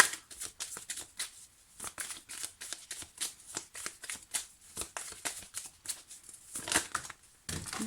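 Tarot cards riffled and cut by hand in a rapid run of crisp papery flicks and slaps, close and fairly quiet, with no talking.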